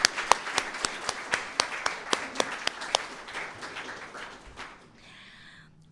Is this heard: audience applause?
yes